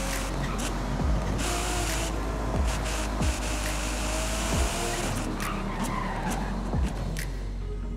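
A Nissan Skyline GT-R R35 tears past a speed radar in Forza Horizon 5, its engine holding a loud steady drone with tire hiss and a handful of low thumps spaced through the run.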